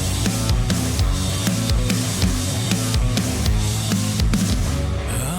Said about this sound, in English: very energetic, very cool rock song, great sound.